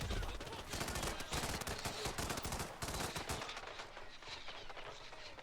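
Rapid gunfire in a Hitman Ghost Mode match on Xbox One, with dense bursts of shots crackling through the first three seconds before thinning into scattered, quieter pops.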